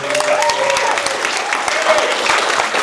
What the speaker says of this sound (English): get a big round of applause, please